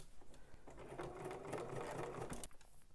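A home sewing machine running steadily as it stitches a garment pocket seam, humming close by, then stopping abruptly near the end.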